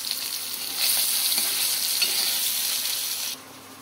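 Paneer frying in oil in a pan, a steady bright sizzle that swells louder after a short quieter start and drops back toward the end, heard alone with no voices.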